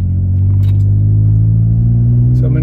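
Toyota Tacoma with a Runnin4Tacos Overland exhaust, heard from inside with windows closed, gives a deep steady engine drone and rumble while accelerating onto a freeway, with faint rattles over it.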